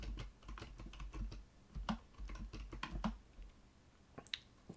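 Uneven bursts of keystrokes on a computer keyboard, close and fairly quiet, with short pauses between clusters of taps.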